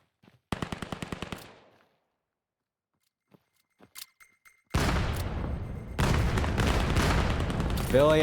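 Automatic MR96 gunfire in the VR shooter VAIL, a rapid burst of close shots, then scattered footsteps and clicks, followed by sustained heavy firing and impacts filling the rest, loud and dense.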